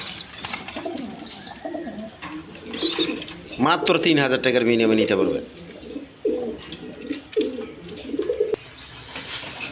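A pair of Giant Runt pigeons coos in soft, repeated rolling calls, one longer burst standing out, while someone talks over them nearby.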